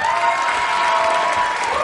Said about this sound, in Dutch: En onze eerste top 10 finalist, uw applaus voor Chelsea Vermeers